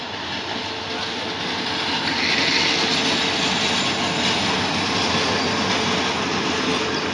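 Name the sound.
train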